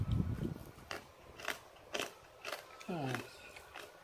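Crunchy fried yellow noodles are bitten in a row of quiet, close crunches about every half second, with a brief voice partway through.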